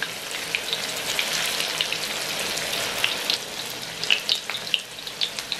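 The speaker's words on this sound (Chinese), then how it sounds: "油热后下入豆腐煎一下。" Tofu pan-fries in hot oil in a wok, giving a steady loud sizzle dotted with sharp crackles and spits, close up with no talking.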